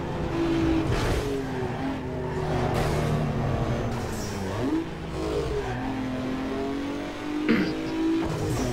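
Car engine in the racing game Need for Speed Underground 2 revving and pulling away, a steady loud drone with gear shifts and rising pitch, no talking.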